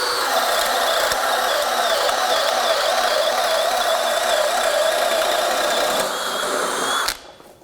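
A Kobalt 24V brushless drill with a mechanical clutch drives steadily through material, whirring in a sustained, loud mechanical whine for about seven seconds before it stops abruptly.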